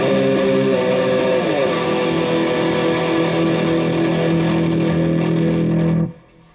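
A Squier Affinity Telecaster plays through distortion on its bridge pickup, a loud sustained chord ringing out for about six seconds with a slight pitch shift early on before being cut off abruptly.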